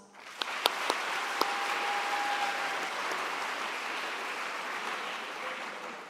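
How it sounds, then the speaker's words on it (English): Crowd applause at a university welcome event in Madrid, a steady, dense wash of clapping from a large audience that holds for several seconds, with a few sharp, louder claps near the start. "Join me in a big round of applause"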